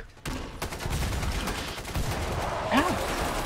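AK-12 rifle fire in Killing Floor 2, a dense continuous rattle of shots amid chaotic game noise, with a voice shouting briefly near the end.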